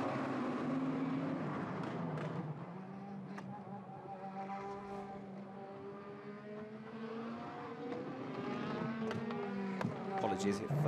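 A DTM touring race car heads out onto the track during qualifying in Moscow in 2017, its engine note rising and falling in steady tonal sweeps, heard at a distance beneath a commentator's voice.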